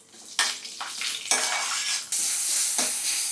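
Onion and tomato sautéed in a pan for a home-cooked vegetable dish: loud bursts of sizzling hiss as the ingredients are stirred, with scraping of a spatula against the pan between bursts, and no voices.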